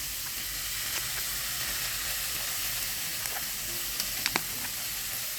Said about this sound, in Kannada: ಈಗ ಸೋಯಾ ಸಾಸನ್ನು ಹಾಕ್ತಾಯಿದ್ದೀನಿ.